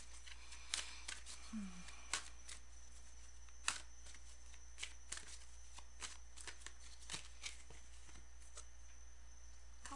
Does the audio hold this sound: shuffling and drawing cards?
yes